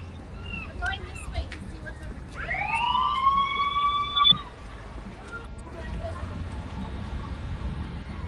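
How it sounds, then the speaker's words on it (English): A siren in Valdez, Alaska swells and wails for a couple of seconds amid background murmur and outdoor noise, fairly distant, then fades out. "since there is a siren going off"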